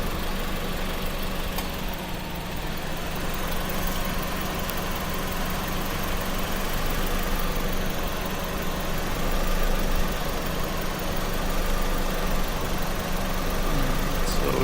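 A Honda Civic engine from the 2001–2004 generation idles steadily with its AC compressor relay plugged in, a continuous mid-low hum that stays at an even level throughout, with no speech over it.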